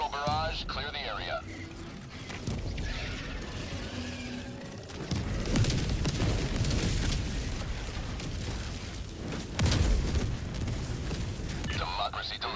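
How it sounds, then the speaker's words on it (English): Orbital barrage explosions in the shooter game Helldivers 2 roll in as heavy, booming blasts, with a strong burst near the middle and another toward the end, mixed with game noise and voices talking throughout. "Firing orbital barrage, clear the area."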